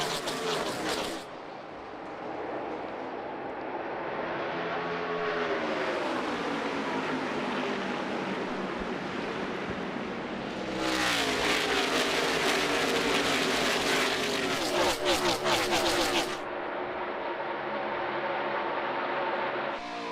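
At the start of a NASCAR Cup race at ISM Raceway, a pack of stock cars roars past with a dense, sustained engine drone that swells and shifts in pitch as they pass, loud and continuous.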